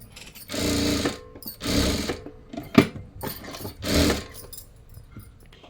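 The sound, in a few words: sewing machine stitching blouse lining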